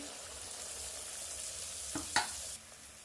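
Sakroli pitha fries in hot oil, a quiet, steady sizzle broken by a couple of brief clinks or taps before the hiss drops away at the end.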